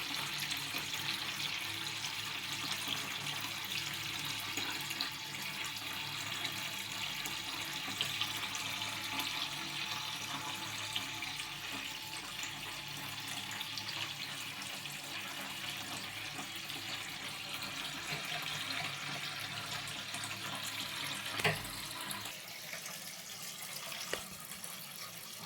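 Fresh water pours steadily into a koi fish breeding tank holding fertilized eggs, a continuous broadband splashing rush that stays even and fairly loud throughout, with no voices.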